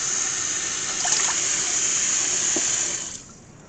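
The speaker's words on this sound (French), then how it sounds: "il me faut mettre un peu d'eau dedans" Water pours from a tap into a Cookeo multicooker in a steady close hissing stream with faint splashes, then cuts off near the end.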